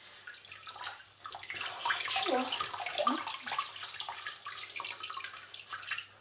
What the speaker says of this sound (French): Et maintenant, on rince.